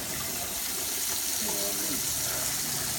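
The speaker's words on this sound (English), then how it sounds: "Now put the water in. Turn on the water." A kitchen tap runs water into a pan, a steady broadband rush with a slightly rising filling tone, continuous and close; a voice may be faintly present underneath.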